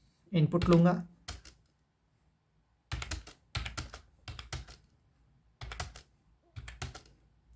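Computer keyboard typing as values are entered into a program, short clustered bursts of key clicks separated by pauses, following a brief spoken phrase at the start.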